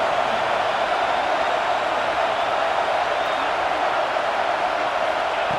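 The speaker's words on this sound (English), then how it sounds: "This crowd bringing the energy and noise early." A large stadium crowd at a Sooners football game roars in a steady, distant wash of cheering noise that never lets up.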